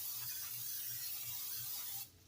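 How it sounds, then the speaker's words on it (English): Cooking spray hisses into a 9 by 13 baking dish in one continuous, fairly quiet burst of about two seconds that cuts off sharply, with no talking. "I'm going to spray it just for easy cleaning"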